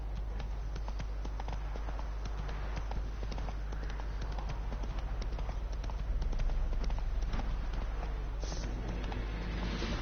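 Roach the horse gallops in The Witcher 3, steady clip-clop hoofbeats running continuously under a low rumbling game backdrop, with faint voices now and then.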